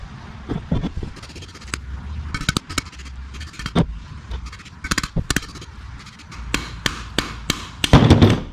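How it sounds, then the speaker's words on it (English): Repeated sharp metallic hammer taps, irregular and close, striking metal while tapping out a vehicle wheel bearing, over a low background rumble, with a burst of harder blows near the end. "these will usually tap out with a hammer"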